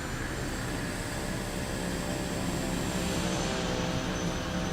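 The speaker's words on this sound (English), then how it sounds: "Too many airplanes nearby." Aircraft engines in Microsoft Flight Simulator 2024 near an L-39 jet, a steady dense roar that stays constant and loud throughout with no talking.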